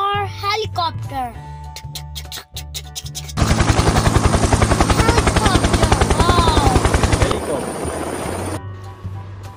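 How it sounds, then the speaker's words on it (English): A loud, close helicopter with rapid rhythmic rotor chopping for several seconds, preceded and followed by someone speaking. "H for helicopter"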